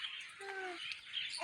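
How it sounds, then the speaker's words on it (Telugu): A lutino cockatiel and other parrots chirp nearby, a couple of short whistled calls and tweets over a soft background with faint voices. "అగ్గో వైట్ ప్యారట్ లుటినో కాకటి"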